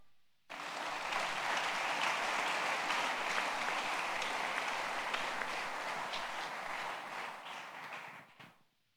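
Church congregation at a Sunday worship service bursts into sustained applause and cheering, a dense continuous wash of clapping that starts abruptly, holds steady for several seconds, then fades out near the end.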